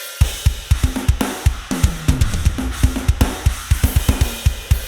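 A heavily processed drum kit mix plays back alone, with punchy kick and snare hits falling in a steady rhythmic groove under a bright, dense wash of cymbals.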